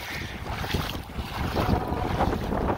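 Strong wind at a lake front buffeting the microphone in loud, rumbling gusts, with water noise beneath and no voices.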